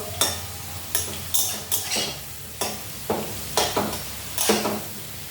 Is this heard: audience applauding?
no